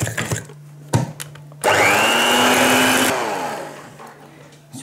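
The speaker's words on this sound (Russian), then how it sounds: "мне нравится то, что он выносливый и он шустрый очень, этот миксер" A low-power 300-watt electric hand mixer whirs steadily for about a second and a half while mixing gingerbread dough, loud and close, with clicks and bumps before and after.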